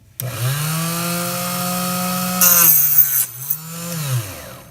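Small chop saw cutting the neck off 30-06 rifle brass: a loud steady whining motor hum with a rising cutting screech near the end, heard alone and up close.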